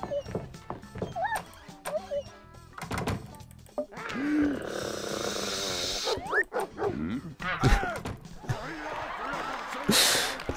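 A dog barks in the video game Böse Nachbarn, with several short barks and thumps scattered among game sounds and noisy passages, fairly loud, while a person talks now and then.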